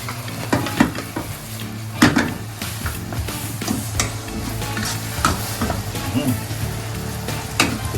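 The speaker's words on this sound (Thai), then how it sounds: "คลุกเคล้าให้เข้ากันครับ" Stink beans, shrimp paste and minced pork stir-fried in a pan, with a steady close sizzle, scraping spatula strokes and occasional louder clanks against the pan throughout.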